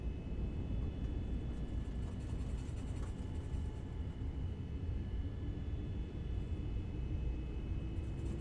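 Simulated airliner jet engines spool up at 40% throttle for takeoff from the runway centre line in X-Plane 11, a steady broadband roar with a faint whine, continuous and loud throughout.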